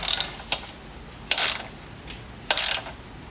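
A ratchet wrench tightens the oil drain plug on a BMW Z3 M with the S52 engine, giving three short bursts of crisp metallic clicking separated by pauses, close and alone.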